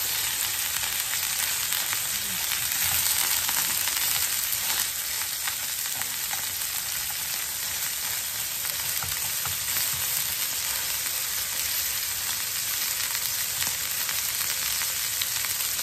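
Beef sizzles loudly in a pan over high heat, a constant bright crackling hiss with occasional stirring, steady from start to finish with no talking.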